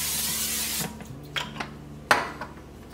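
Cooking spray hisses from a can into a 13-by-9-inch baking pan in one sustained burst, then stops, leaving a few faint clicks and a sharp tap or clunk against a quiet background.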